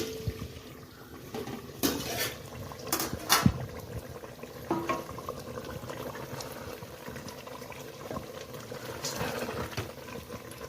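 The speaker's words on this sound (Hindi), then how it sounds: "बस इसे हल्की आंच पे अब 10 से 15 मिनट के लिए दम पे रख देंगे।" Mutton kachnar curry (mutton with mountain ebony buds) left on low heat to simmer in a pot, giving a soft, steady bubbling background with a few clinks of pots and utensils, no talking.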